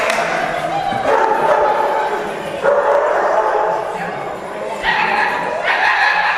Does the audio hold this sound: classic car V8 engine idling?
no